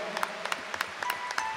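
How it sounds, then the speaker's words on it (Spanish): Congregation at a diocesan Pentecost gathering applauding, with sparse, distinct claps rising over a soft background hum and a faint tone, moderately near and irregular in rhythm. "Fuerte ese aplauso al Señor"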